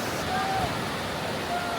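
Large ocean waves at Essaouira rumble as a broad, steady wash of surf mixed with wind noise on the microphone, heard from a short distance, with faint brief tones over it.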